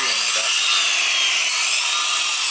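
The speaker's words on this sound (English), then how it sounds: "That's how you cut down a tree or trim a tree, dead tree branches, with a skill saw." Skill saw cutting wedges into a dead tree branch, a steady loud buzzing hiss of the blade biting wood that runs continuously through the whole stretch with no talk over it.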